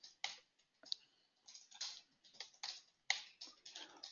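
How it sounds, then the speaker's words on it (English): Quiet typing on a computer keyboard, a loose run of light clicks and taps with irregular pauses and no voices. "I'll type it in again."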